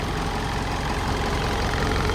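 A secondhand 2012 Mitsubishi Montero engine idles close by, a steady, even rumble that holds without change for the whole stretch, with no voices over it.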